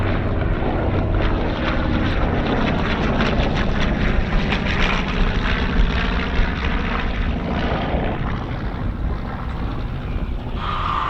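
A Douglas C-53, a World War II offshoot of the DC-3, roars loudly and steadily through takeoff, its propeller engines droning as a thick, continuous rumble that eases slightly near the end.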